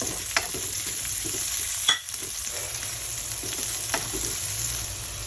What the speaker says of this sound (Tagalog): So unahin na natin ang ating bawang. Sunod natin ang ating sibuyas.